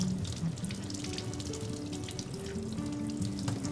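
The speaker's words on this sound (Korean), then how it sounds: "흐르는 물에 손가락으로 이렇게 싹 돌려가면서 씻어주세요" Running tap water splashes steadily into a sink as shiitake mushrooms are rinsed under the stream and turned by hand, close and continuous with no talking.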